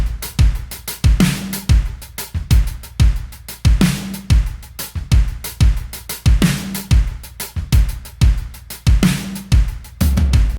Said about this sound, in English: Let me start by soloing up my mix drums for you.